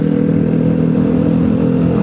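A loud motorcycle exhaust rumbles steadily and close up on a damaged road on the way to Ciwidey, a dense continuous drone with rattly texture and no talking.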